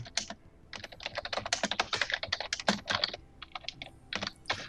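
Rapid computer keyboard typing, dense clattering keystrokes in uneven bursts, close and fairly loud throughout with no talking.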